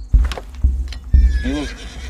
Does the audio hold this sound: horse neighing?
yes